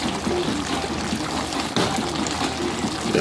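Coconut cream milk is poured in a steady liquid stream for about three seconds, close and moderately loud, with a brief break midway and no talk.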